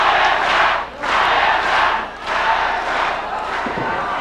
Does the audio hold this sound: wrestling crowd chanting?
yes